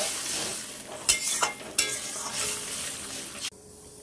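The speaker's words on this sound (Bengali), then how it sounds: "এবার আমাকে জল দিয়ে দিতে হবে বেশি জল করবো না যেহেতু অল্প পরিমাণেই জলটা দিলাম" Water hits a hot frying pan of curry whose spiced oil has separated, giving a broad hiss and sizzle with a few sharp splashes, then the sound drops abruptly to quiet near the end.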